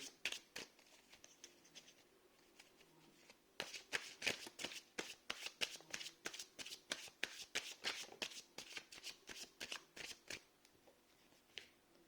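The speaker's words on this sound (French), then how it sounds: "je vais prendre 3 cartes pour voir la suite des événements" A tarot deck is shuffled and cards are drawn during a reading, heard as close, brisk bursts of papery riffling and flicking in a steady rhythm, with no talk.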